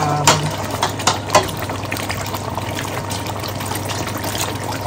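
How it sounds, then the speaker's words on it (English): Water pours from a measuring cup into a pot of thick, yogurt-based beef biryani as a steady, soft trickle. A few faint splashes sound near the start. "So now I have to put water."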